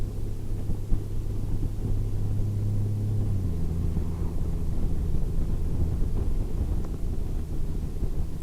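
A 2018 Honda Goldwing with a DCT automatic gearbox is ridden without manual shifting, its smooth low engine drone steady beneath heavy wind rush, with a slight pitch change partway through.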